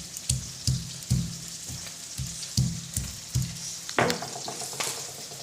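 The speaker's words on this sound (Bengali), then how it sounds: "এই রসুনটা ফোড়নে দিয়ে দেবো" Fish and garlic frying in hot oil in a pan: steady close sizzle with a regular series of sharp crackling pops roughly every half second, then a burst of louder spitting near the end.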